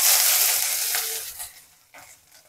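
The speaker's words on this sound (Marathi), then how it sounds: "आता हे आपण याच्यात कांदा टाकून घेऊ." Onion sizzling in hot oil in a pan while cooking a Maharashtrian roasted aubergine bharit, a loud steady frying hiss at the start that fades, with a brief stir-like crackle near the end.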